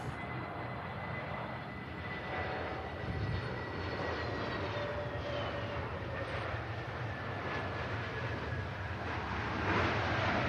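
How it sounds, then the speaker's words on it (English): A KLM Neo airliner touches down, its jet engines roaring steadily and close with a thin whine riding over a broad rumble that swells slightly toward the end, with no voices. "Nice touchdown that was."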